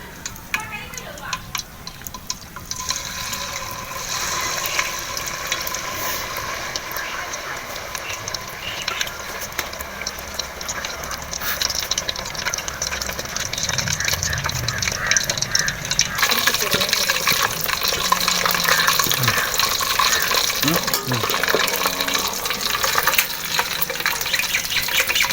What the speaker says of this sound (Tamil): இப்போ வந்து எண்ணெய் நல்லா காஞ்சிருச்சு, எண்ணெயில் போட்டு எடுக்க போகிறோம்.